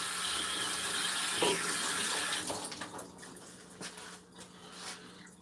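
Tap water runs steadily into a sink while seeds are rinsed off by hand, a close, even splashing stream for about half the time before it breaks into softer intermittent splashes and drips.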